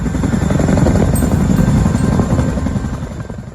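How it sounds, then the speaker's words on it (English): A heavy-lift military helicopter such as a CH-47 Chinook or CH-53 Sea Stallion roars loud and close, its dense rotor thump and engine drone steady throughout the short stretch. "Both the CH-47 Chinook and CH-53 Sea Stallion are heavy-lift helicopters"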